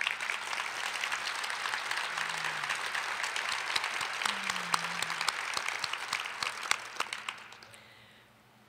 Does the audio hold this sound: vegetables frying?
no